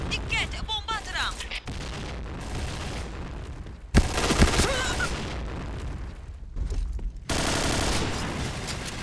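Explosions and bursts of gunfire from a shooting video game, with a loud boom near the middle followed by dense rattling fire that stops and resumes in chunks; voices talk over parts of it.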